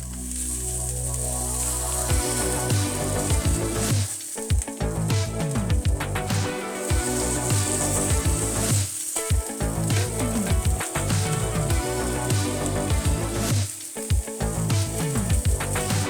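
Tuna patties frying in a pan, a steady bright sizzle running throughout with occasional clicks and scrapes of a utensil, no voices.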